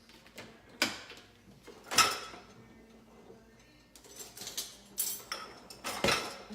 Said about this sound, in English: Let me grab a little small spoon.